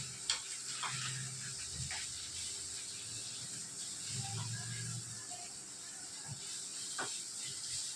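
Drumstick leaves and garlic frying in a pan give a continuous close hiss and sizzle, with occasional soft stirring knocks and scrapes, at a moderate level throughout.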